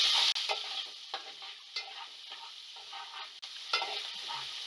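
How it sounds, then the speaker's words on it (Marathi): Chopped onion fries in a poha mixture for Kolhapuri kanda poha, a soft sizzle broken by repeated scraping stirs of a spatula against the pan, close and fairly quiet with no talk. "कांदा टाकून घेऊ आणि मिश्रण चांगले हलवून घेऊ"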